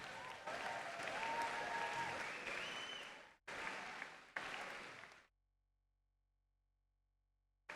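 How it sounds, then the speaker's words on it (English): Audience applause for team mentors at a First Tech Challenge robotics championship in Alberta, a few seconds of steady clapping with brief breaks, then cutting to silence near the end. "Can we get a round of applause for all the mentors?"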